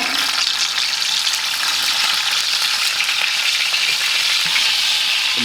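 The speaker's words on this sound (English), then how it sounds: "So now we're just going to flip this and we'll sear the other edge of the steak." The fat cap edge of a steak sears in a hot pan of beef tallow or clarified butter, a loud, dense, continuous sizzle and crackle close by, with faint scraping as the meat shifts.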